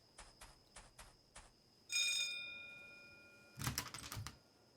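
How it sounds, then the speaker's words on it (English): A doorbell at a rooming house in a Lovecraftian point-and-click detective game rings once with a bright sustained chime that fades slowly, after a few soft taps, and is followed by a burst of clattering noise. "Ring the doorbell, I suppose."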